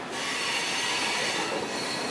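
Spanish-built CPTM commuter train at Lapa station in São Paulo passing close by, a loud, steady metallic rush with squealing wheels on the rails, sustained without pause.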